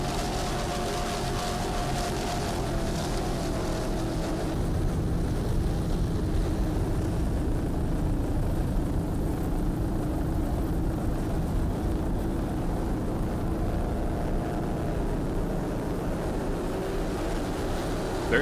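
A Donzi racing powerboat on a marathon offshore course gives off a steady, heavy engine drone with a deep low rumble, holding even and sustained all the way through, with no voices.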